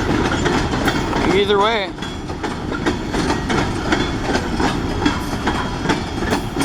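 Train rolling over track with newly replaced ties, a steady rumble with repeated clickety-clack wheel beats, a brief squeal early on, and someone talking over it.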